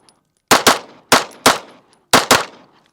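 A CZ Shadow 2 pistol fires three crisp double-taps, each pair of sharp, loud cracks close together, with short pauses between pairs and no talking.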